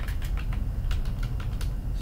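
Quick, close clatter of keys on a computer keyboard while HTML heading text is entered, a rapid irregular burst of taps with a low background hum.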